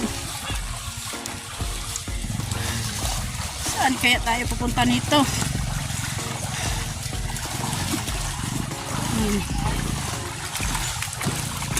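Water splashing and trickling as people wade across a river on foot, a constant rushing flow with splashes from steps, while a person talks over it.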